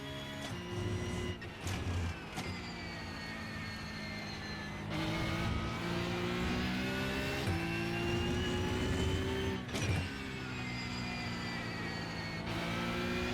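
Race car engine in the iRacing sim, revving hard with rising and falling pitch as it brakes and accelerates through corners, steady and loud throughout with a few sharp gear shifts.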